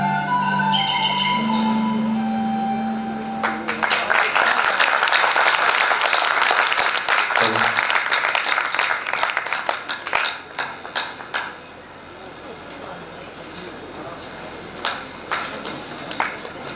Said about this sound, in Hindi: एक जोरदार तालियां अपने आशीर्वाद स्वरूप इस पूरी टीम को। तालियां थोड़ी सी कमजोर हैं।